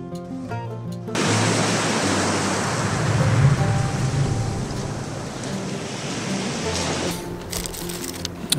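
Broad, steady roar of sea waves and surf at the beach, with undertow wash swelling and easing, loud and close after a short quiet start, no voices.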